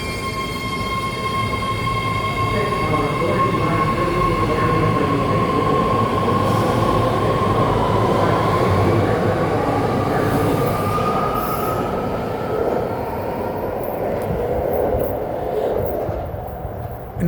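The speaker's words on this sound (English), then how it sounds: "This is a Green Line train to berryessa." A BART Green Line metro train pulls out of a station platform, a loud sustained rumble with a rising electric whine and squealing wheels that gradually fade as it departs.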